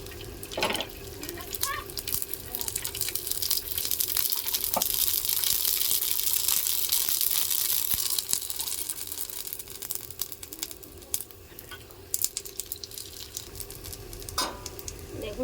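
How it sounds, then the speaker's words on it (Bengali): Papad, a thin lentil wafer, frying in hot oil produces a loud, continuous bubbling sizzle with occasional sharp clatters and stirring knocks close by, sounding almost like running water. "পাঁপড়টা দিয়ে দিচ্ছি তেলটা গরম হয়ে গেছে"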